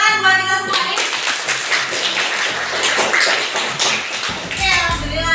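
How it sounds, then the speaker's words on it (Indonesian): Children clapping their hands in a classroom after group presentations, a dense burst of claps mixed with kids' voices and chatter, fairly loud and close, with a teacher's voice briefly at the end. "Tepuk tangan buat kita semua nih."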